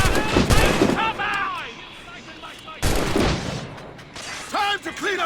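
Gunfire from soldiers in Assassin's Creed Rogue: loud, close volleys of shots in separate bursts amid clanking mechanical noise, with shouting voices in between.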